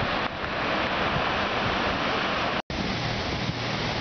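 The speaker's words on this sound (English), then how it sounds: "I hope you can hear me above the sound of roaring water and electric motors humming" Loud, steady roar of rushing water in the tailrace beneath a hydroelectric plant at Cohoes Falls fills the whole clip, broadband and continuous, with one brief dropout near the end.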